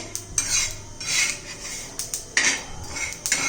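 Sesame seeds dry-roasting in a pan on a gas stove for a crisp sesame chutney, stirred steadily with a spoon that gives repeated bright scraping and clinking strokes over a soft rustle of the seeds.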